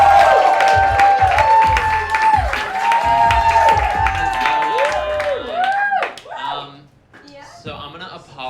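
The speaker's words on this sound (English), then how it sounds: "Please start clapping it up for my friend Sunny Laprade." Audience at a comedy show at Union Hall clapping and cheering for comedian Sunny Laprade, a dense burst of applause with whoops under a speaking voice, then thinning to scattered claps.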